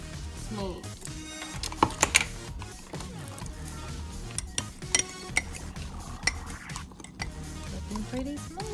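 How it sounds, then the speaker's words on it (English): A spoon stirs cake batter in a mug, giving scattered light clinks and scrapes against the ceramic, with several sharper taps in the middle, over a low background murmur. "Stir with the spoon until the batter is smooth."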